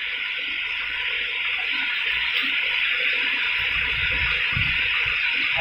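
Water rushing at Fourt Manro waterfall near Sakhi Sarwar, a steady loud broadband roar that persists throughout, with low rumbling near the end and no speech.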